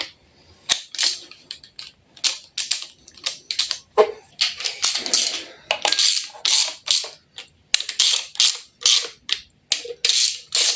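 Torque wrench tightening bolts on a MultiJet JTD diesel engine block, a rapid run of sharp metallic clicks and ratchet ticks in bursts, close and fairly loud with no talk.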